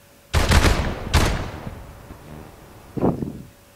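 Gunfire in the Call of Duty Advanced Warfare video game: a few sharp bursts of shots close together, a pause, then one more burst, each with a short decaying tail.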